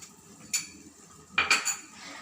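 A metal spoon scrapes and clinks against a pan while masala is stirred for pasta, with three short, sharp strokes close up in an otherwise quiet kitchen.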